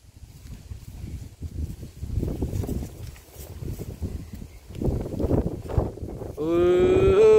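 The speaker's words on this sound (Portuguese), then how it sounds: "Nós temos uns boi, ó." Wind and rustling noise on a farm give way to a loud, close, drawn-out moo from cattle near the end.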